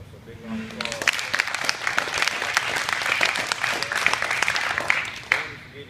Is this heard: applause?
yes